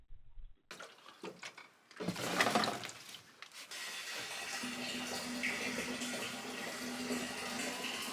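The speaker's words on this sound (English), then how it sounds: "just let the water flow into the barrel" Water pouring from a small container into a barrel in a barn, a steady broadband rush that starts after a few brief knocks and continues evenly, close and moderately loud.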